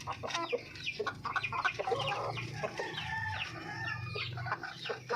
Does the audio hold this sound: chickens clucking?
yes